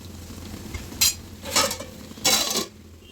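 Goat head curry with soaked tamarind stirred in a pot, three short scraping swishes of a spoon against the vessel, close and moderately loud over a low background hum.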